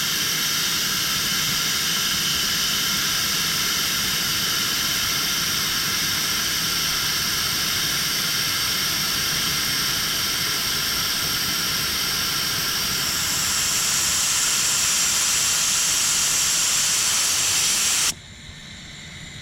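Loud, continuous hiss of air escaping from a tire through a Morrflate multi-tire air system, steady for most of its length before abruptly cutting down near the end.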